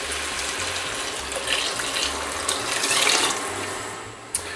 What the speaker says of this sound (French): j'ajoute le bouillon de légumes